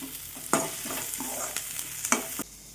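Onions and green chilies sauté in a pan with a steady sizzle, while a few sharp clinks and scrapes of stirring break through at intervals.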